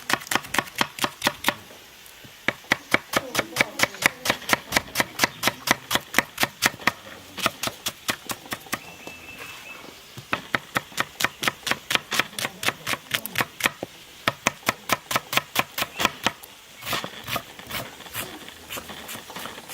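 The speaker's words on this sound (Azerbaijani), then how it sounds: "Göbələklər içində soğanı xırda-xırda doğrayırıq." An onion is chopped finely with a knife on a board, giving a long run of quick, evenly spaced blade taps. The taps stop briefly a few times, then resume at the same steady pace, close up, with no talk.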